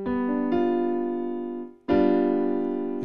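A dominant seventh chord rings out in two sustained, clean strikes, each held and slowly fading, with a brief gap between them and no voices.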